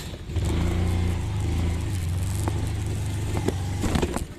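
A car engine idles then revs as the vehicle pulls away to go to the market, a steady low rumble with a few clicks and knocks near the end.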